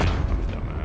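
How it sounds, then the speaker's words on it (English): Shotgun blast in Call of Duty: Black Ops Cold War, a single deep booming thump with a low rumbling tail, loud and close, with no talking. "Oh, it's a shotgun."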